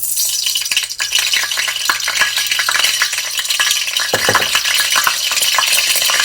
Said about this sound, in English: And it's going to pop because I have the crumbs in there.